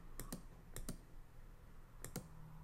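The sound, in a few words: computer mouse clicking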